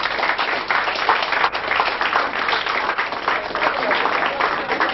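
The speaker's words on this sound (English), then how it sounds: "we will give them appropriate applause for the leadership and good" A standing audience at a Surulere Lioness Club gathering applauds a past president with steady, continuous clapping that stays even in loudness throughout, with a faint crowd murmur underneath.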